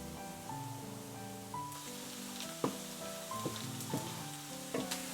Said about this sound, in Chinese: 炸到大蒜变成金黄色，可以关火。